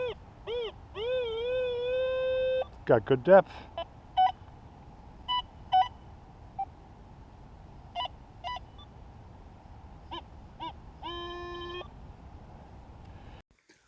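XP Deus 2 metal detector sounding its pinpoint tones over a buried target: rising and falling electronic beeps, a quick burst of chirps, then scattered short blips over a steady hum, with a brief spoken remark.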